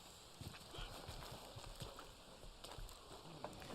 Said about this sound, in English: Look, my horse is freaking out right now.